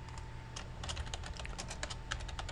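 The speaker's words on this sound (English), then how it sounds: "Just using your arrow keys, slide it over a little bit." Rapid light clicks of computer keyboard keys being tapped repeatedly while nudging an element in Photoshop, close and crisp in an uneven rhythm, with no one speaking.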